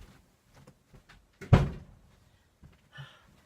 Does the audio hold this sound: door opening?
yes